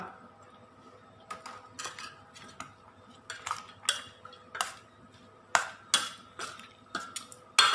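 A metal utensil clinks and scrapes against a pot of mushroom soup with vegetables in irregular bursts, a steady stirring rhythm with faint kitchen background.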